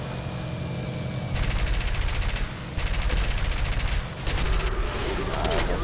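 Gunfire hitting an aircraft in the War Thunder air combat game, dense rapid bursts of machine-gun fire over a constant loud engine roar, several long volleys with brief gaps.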